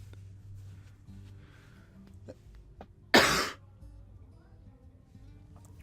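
A single short, harsh cough from a man who is slightly ill bursts out loudly at close range, lasting about a third of a second, against a quiet room with a faint hum and no speech.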